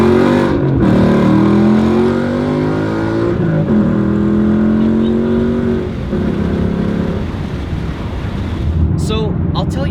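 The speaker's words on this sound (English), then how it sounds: "I'll take it wide open throttle. We'll see what it sounds like." A 2018 Mustang GT with its muffler deleted roars at wide open throttle, heard from inside the car with the windows down, its loud raspy engine note rising through the gears against strong wind rush, with a brief voice near the end.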